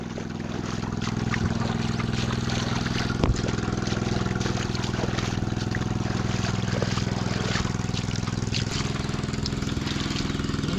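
Engine pump droning steadily outdoors while water gushes into a paddy field in a Konkan village, a constant low motor hum under splashing flow, loud and unbroken throughout.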